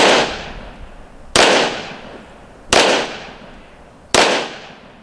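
A handgun fires four sharp, loud shots from a prone position on a shooting range. The shots come at irregular intervals, and each crack rings out into a long decaying echo.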